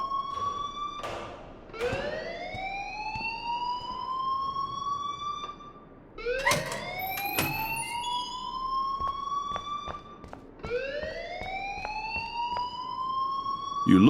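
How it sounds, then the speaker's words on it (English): Fire alarm ringing in the Life is Strange video game, a loud electronic siren sweeping upward in repeated cycles about every four seconds, alone without talk. "please turn off that alarm since that's your job"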